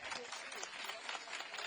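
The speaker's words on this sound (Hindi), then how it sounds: "ताली हल्की नहीं है" Brief burst of quick, scattered clapping from a rally audience, fairly quiet and continuous across the moment, under an amplified speaker's voice.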